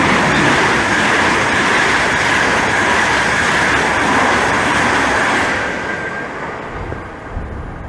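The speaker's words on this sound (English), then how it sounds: "getting ready to pass by is going to be one Lima 50, the 1249 Great Western Railway service from Shelton Slough to London Paddington" A Great Western Railway Class 800 train rushes past at Maidenhead with a loud, steady roar and rumble of wheels on track, then fades quickly as it moves away.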